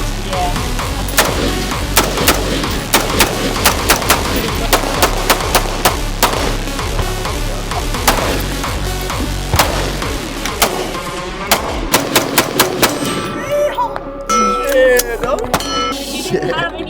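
Handguns fire at a shooting range, with sharp, loud, evenly spaced shots in a steady series, then a few more after a brief pause, as people talk quietly in between.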